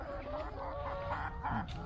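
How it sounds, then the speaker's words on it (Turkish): Hens clucking and murmuring close by underfoot in a lemon orchard, a steady busy chatter of several birds with a brief louder squawk near the end. "Tavuklar da ayağımızın altında dolaşıyor."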